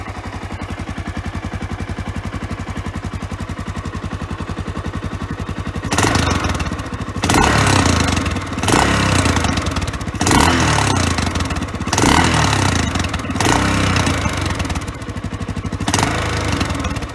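Old 1992 600cc motorcycle engine ticking over at a low idle, then revving in repeated loud bursts with brief dips between them, close to the listener.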